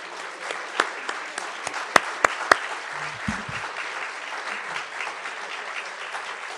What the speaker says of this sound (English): stand to your feet and help me give a warm round of applause